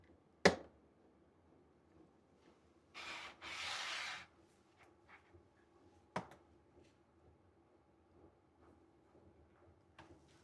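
A wooden radiusing block held in a jig sands a guitar fretboard for a classic Telecaster build, heard as two short bursts of rough, close rubbing among sharp isolated knocks and a quiet background.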